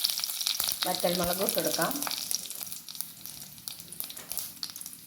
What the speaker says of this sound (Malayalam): വെളിച്ചെണ്ണ ചൂടാകുമ്പോൾ നമുക്ക് കടുക് ഇട്ട് കൊടുക്കാം.